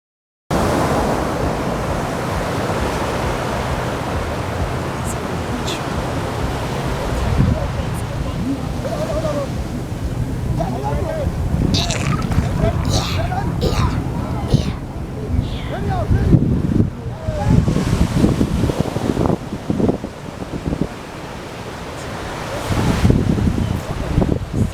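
Ocean waves break and wash on the sea at Tarkwa Bay beach in Lagos, mixed with gusty wind buffeting the microphone and surging louder toward the middle and end, while people talk and exclaim over it.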